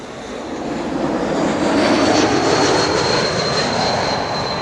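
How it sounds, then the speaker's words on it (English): An Embraer E2 jet airliner arrives at Amsterdam Schiphol Airport, heard as a loud, steady roar of jet engines that swells slightly and holds, with a faint high whine over the broad rushing noise. "First up, an E2 Embraer arriving from Geneva, flight"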